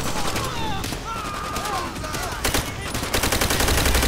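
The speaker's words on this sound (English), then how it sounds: "I always liked this machine gun. The Type 100." Type 100 machine gun fired in Call of Duty: World at War co-op campaign, rapid bursts of automatic gunfire that grow denser and louder toward the end, with players talking over the shots.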